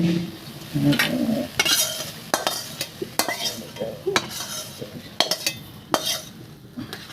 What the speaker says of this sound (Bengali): পরিমাণ মতো তেল লাগবে এটা ভাজতে